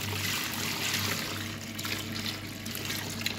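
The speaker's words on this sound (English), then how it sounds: "So now I pour the water." Water pours into focaccia dough in a home kitchen, a steady close trickle with a continuous hiss that runs through the whole moment with no one talking.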